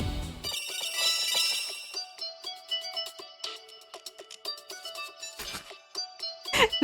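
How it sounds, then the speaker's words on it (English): An old-style cell phone ringtone plays in the video game Twisted Wonderland, a bright, beeping electronic melody of rapid repeated tones that fills the whole stretch without any voices. "Just like a very old cell phone ringtone."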